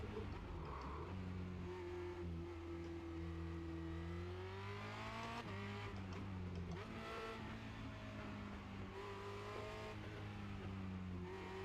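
Formula Renault 2.0 race car in iRacing at Circuit de Barcelona-Catalunya, its engine droning steadily with rising and falling revs through gear changes as it brakes and accelerates through tight curves, loud and continuous throughout.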